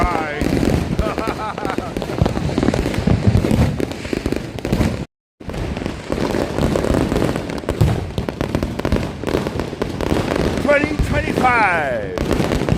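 A large 2025 fireworks show in Hawaii bursts continuously, dense overlapping booms and crackling explosions with whistling rising shells, loud and close, broken by one brief gap before the barrage resumes even more intensely; people can be heard beneath the noise.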